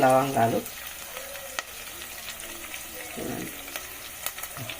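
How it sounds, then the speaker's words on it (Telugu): Whole spices, including cardamom, dropping into hot oil in a pot for biryani. A voice is heard briefly at the start, then a soft, faint sizzle continues with a few light clicks and taps. "ఇదిగో ఇలాచీలు వేస్తున్నాను"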